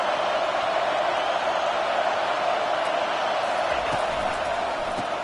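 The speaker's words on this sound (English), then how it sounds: "And here comes the noise. This crowd is trying to inspire this defense to make a big red zone stop." Football stadium crowd roaring to push the defense toward a red zone stop, a dense, steady wall of loud cheering and whooping that holds at full level throughout.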